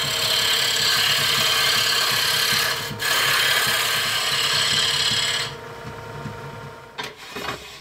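A wood lathe spins with a steady high whir while a tool scrapes and cuts wooden dowels down toward one inch in diameter, then the cutting stops and the motor hums alone.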